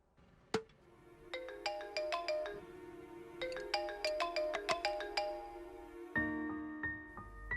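A mobile phone ringtone plays a bright melodic tune of repeated chiming notes, loud and close, with a sharp click just before it and a sustained tone at the end, with no voices.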